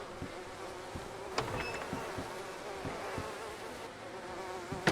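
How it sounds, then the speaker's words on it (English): Continuous buzzing of bees swarming around a beehive in the DayZ video game, a steady droning hum with occasional louder passes close by, no voices. "That one I have bees around them, this one don't."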